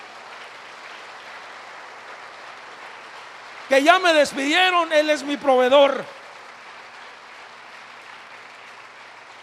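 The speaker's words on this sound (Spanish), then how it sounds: "dele un fuerte aplauso, bien fuerte al Señor" Applause from a church congregation at a worship service, a steady faint wash running throughout while a preacher's voice speaks loudly over the middle of it.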